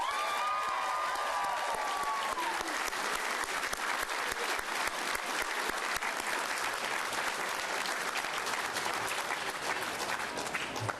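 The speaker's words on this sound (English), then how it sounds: "Let's give them a round of applause, please." Sustained crowd applause fills a Senate victory speech rally by Todd Young, dense and steady for about eleven seconds with faint cheers and whistles mixed in near the start.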